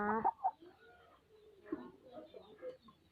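A chicken gives a few short, throaty clucks close by. Someone talks quietly between and over the sounds.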